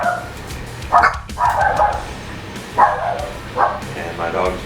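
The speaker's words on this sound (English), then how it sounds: "And my dogs are barking." A dog barks several times in short bursts, fairly close, over ongoing background noise.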